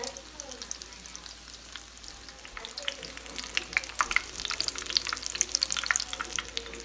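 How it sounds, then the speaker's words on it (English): Chile rellenos fry in really hot oil in a pan, giving a steady, crackling sizzle with scattered sharp pops that grow denser and louder toward the end, close by and without talk. "And then putting them in the pan with oil. Make sure that your oil is really hot."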